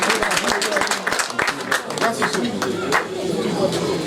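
Applause fills a wedding party hall, dense rapid clapping from many guests, loud and close, with chatter and voices mixed in throughout.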